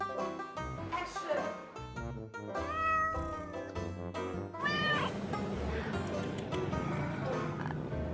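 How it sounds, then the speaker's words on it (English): Shop cats in Hong Kong meow repeatedly, several close, clear cries spread across the stretch with quieter background shop noise between them. "just look at all the cats I came across"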